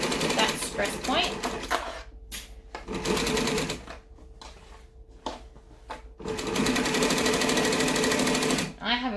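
Cylinder arm sewing machine back stitching a stress point on a business bag, loud rapid needle chatter in bursts that stop and restart with the reversal, a brief quieter gap between runs.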